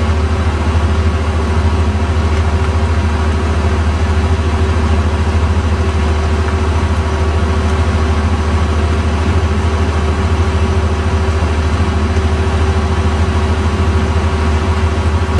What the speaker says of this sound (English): After the whole weekend of sitting, it's pumping.